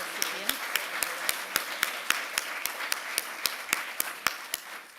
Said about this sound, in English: Join with me, colleagues, in giving Gabriella and all of our Learning and Teaching Award winners another round of applause